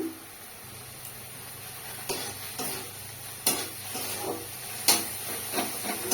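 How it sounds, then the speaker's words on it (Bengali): Spice paste being sautéed in a pan for a Bengali kundru (ivy gourd) curry: a steady low sizzle with repeated scraping stirs and spatula knocks at uneven intervals, close and moderately loud, with no talking. "এখন মশলাটাকে ভালো করে কষিয়ে নিই।"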